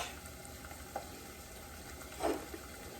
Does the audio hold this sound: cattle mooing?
no